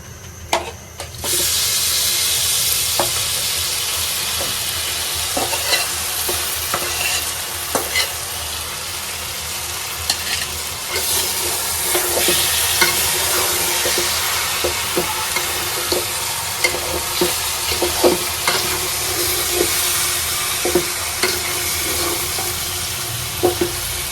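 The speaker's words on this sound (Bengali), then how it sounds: "এই যে এখানে এক কেজি পরিমাণ মাংস মাংসটা দিয়ে দেবো" Goat meat being stir-fried with spices in a hot pan for biryani, a steady loud sizzle throughout with repeated scraping and clacking of the stirring spoon, no talking.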